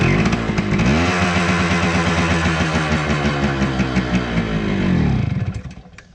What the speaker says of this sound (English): Yeah, it's running on choke.